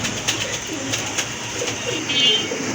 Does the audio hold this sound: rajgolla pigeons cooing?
yes